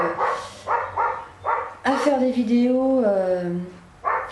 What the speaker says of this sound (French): désolée pour les aboiements du chien du voisin